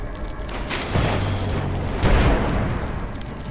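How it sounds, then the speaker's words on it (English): Airship cannons firing in the Airships: Cloudwalker Conquest video game, two deep booming blasts about a second apart, each with a rumbling tail, loud and up close. "And the ships coming from the other side are firing cannons."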